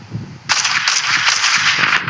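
Video game gunfire bursts out loud and close after a short quiet start, continuing as a dense, rapid stream of shots to the end.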